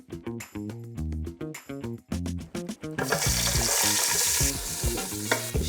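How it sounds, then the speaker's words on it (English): Patted-dry tofu sizzles and crackles in hot oil over a bed of music, the frying growing louder and denser about halfway through. "pat dry the tofu to make sure that it's dry before frying it"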